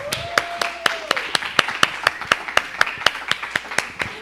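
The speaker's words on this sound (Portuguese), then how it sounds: "E uma salva de palmas." Audience clapping at a live Christian talk show, distinct, evenly spaced claps in a steady rhythm with a brief tonal voice near the start.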